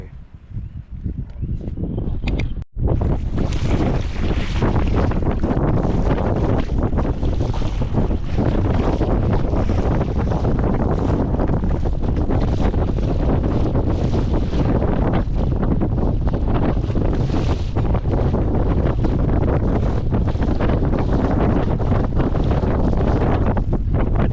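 Strong wind buffets the microphone continuously under a clear sky on a pike-fishing outing, a loud, unbroken roar of gusts from start to finish after a brief quieter moment.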